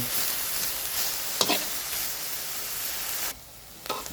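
Minced pork sizzles loudly as it is stir-fried in a pan with oil, a steady frying hiss broken by scraping stirs before the noise suddenly drops off near the end.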